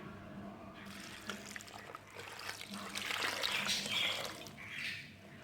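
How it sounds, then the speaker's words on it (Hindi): Water pours into a pressure cooker holding chicken for shami kabab, a soft steady splashing stream that grows fuller and then tapers off, close and fairly quiet with no talk. "3 गिलास पानी डालेंगे।"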